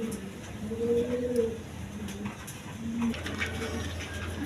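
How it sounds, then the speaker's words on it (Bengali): A pair of undulated-colour house pigeons at a pigeon farm coo in soft, low, drawn-out phrases, two or three calls in succession over a faint background murmur. "এইখানে এক পেয়ার অ্যান্ডোলেশন কালার হাউস পিজন কবুতর"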